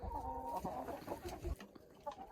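Hens clucking in a large farmyard: several close, quiet, choppy clucks and murmurs overlap in an irregular rhythm, with no talking.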